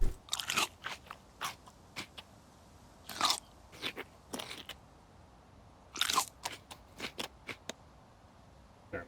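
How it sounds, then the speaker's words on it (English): Crunchy bites of tomatoes eaten like apples in the Rising World video game, several sharp crunches spread in irregular clusters over quiet background, with no talking. "munch on some tomatoes like they're apples"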